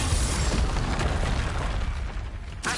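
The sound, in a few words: Confringo explosion spell from a video game (PS5)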